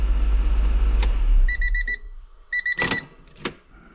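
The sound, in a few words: supercar engine being turned off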